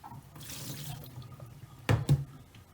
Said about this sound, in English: Just give it a rinse with some fresh water because this may be a bit slimy.